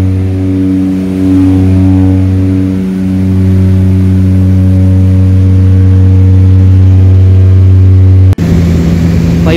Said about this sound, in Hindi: कॉकपिट का डोर ओपन है तो इंजन का शोर बहुत है